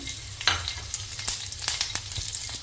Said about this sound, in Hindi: तेल हमारा गर्म हो गया, इसमें हरी मिर्च डालेंगे।